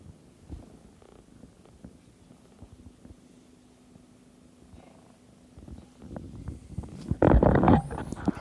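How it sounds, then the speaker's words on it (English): A soft, low purr rumbles close by, then grows louder and rougher near the end as the cat shifts or nuzzles. "You hear that purr?"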